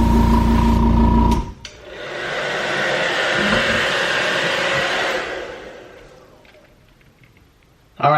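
A hair dryer or heat gun blows a steady broadband rush of air over airbrushed paint on a fishing lure for about four seconds, then fades out after a louder motor hum cuts off at the start.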